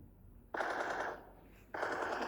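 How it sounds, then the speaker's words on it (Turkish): Gunfire in the mobile game PUBG Mobile: two bursts of rapid automatic fire, each lasting under a second, separated by a short pause and heard alone without talk. "Vuruyorum arkadaşlar vurdum."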